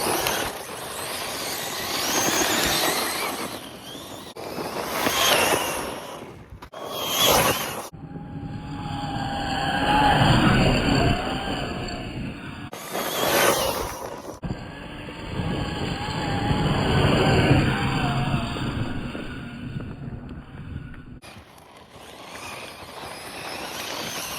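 Rlaarlo DSK RC car tearing across off-road terrain, its high-pitched electric motor whining and surging in bursts with crunching dirt and gravel, loud and close, with a few quieter gaps between runs.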